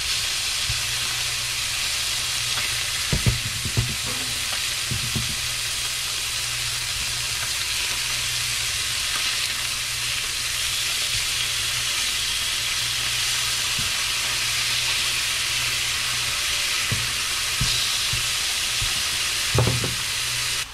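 Snapper or grouper fillets fry in a hot pan, a steady bright sizzle and hiss continuing throughout with a few soft knocks and bumps.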